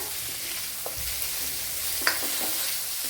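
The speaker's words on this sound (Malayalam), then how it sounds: "ഇതൊന്ന് വഴറ്റി കൊടുക്കാം" Tomato and onion sauté in a pan with a soft, even sizzle, close by, broken by a few light scrapes and taps of stirring, with no voices.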